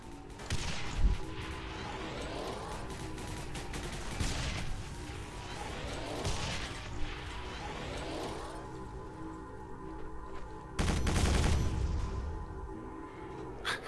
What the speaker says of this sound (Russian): у тебя есть пулемет, сбивай ракеты